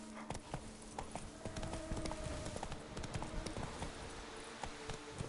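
Roach the horse gallops in The Witcher 3: Blood and Wine, a quick steady rhythm of hoofbeats on the ground with faint ambient game sounds beneath and no talking.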